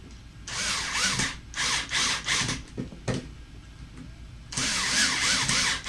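A power drill drives screws into a Tamiya TT01 RC car chassis, several short whirring bursts with brief pauses between them, close and loud with no talk.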